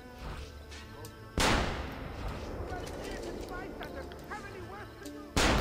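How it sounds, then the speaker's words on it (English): A pistol fires twice in Assassin's Creed Revelations, each shot a loud sharp crack that rings out. The blasts sit several seconds apart, over crowd and street ambience. "Gotta love the pistol."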